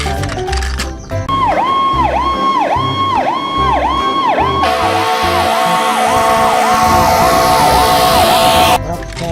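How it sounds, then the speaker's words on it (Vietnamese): A fire truck siren wails in fast repeating up-and-down sweeps, loud and close, its pitch and tone shifting partway through before cutting off, over faint background commotion. "đây là một chiếc xe cứu hỏa này các bạn này"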